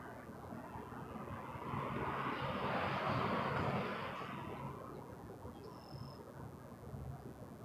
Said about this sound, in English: This is a toothpaste livery 777.